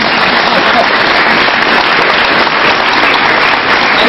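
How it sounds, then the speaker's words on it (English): Dense, loud applause from a comedy club audience greeting a comedian's wife, a steady wash of many hands clapping that holds evenly for the whole stretch with no break. "let's give her a round of applause"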